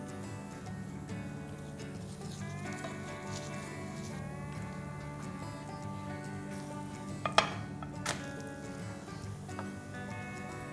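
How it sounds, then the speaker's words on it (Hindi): Garlic laccha paratha roasting in ghee on a hot pan, a faint steady sizzle with occasional light clinks of a utensil against the pan, close and low-level. "एक साइड सिकने के बाद इसे कर देंगे टर्न और यहाँ पे भी घी लगा लेंगे।"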